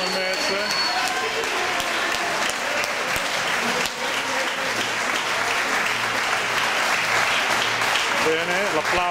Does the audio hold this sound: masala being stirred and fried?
no